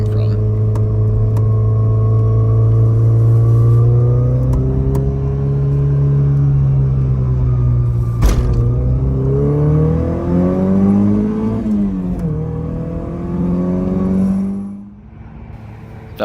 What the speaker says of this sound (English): first little drive out here, we're just going to kind of get into the throttle a little bit